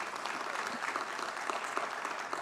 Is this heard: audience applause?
yes